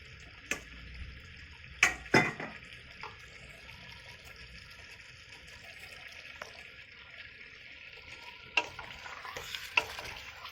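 Pork frying in a pan with onion, ginger and garlic, a steady soft sizzle broken by several sharp clatters and stirring knocks, close and without talking.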